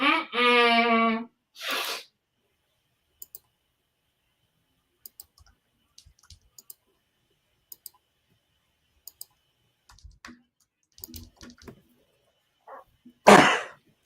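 A single loud close sneeze, followed by a scattering of faint clicks and small noises in an otherwise quiet room, and one more sharp burst near the end.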